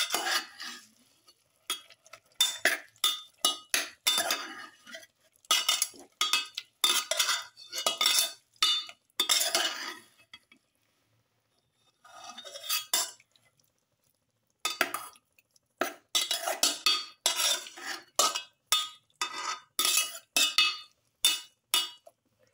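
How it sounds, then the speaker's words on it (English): A metal spoon stirs and mixes ingredients for a pepper chicken and potato stew in a pot, making rhythmic scraping and clinking bursts with short pauses between rounds, close and fairly loud. "Mix thoroughly."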